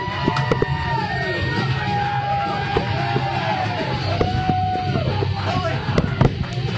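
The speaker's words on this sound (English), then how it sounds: "Come on, let's hear it for the Willie" A studio audience cheers and whoops continuously for an arriving guest, with scattered yells, whistles and sharp pops over a dense roar of voices.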